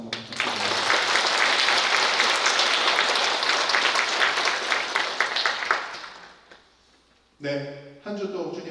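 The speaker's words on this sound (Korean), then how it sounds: "격려 박수 한번 부탁드립니다" A church congregation breaks into sustained applause, loud and even for several seconds before fading away, followed by a brief burst of speech as a voice resumes.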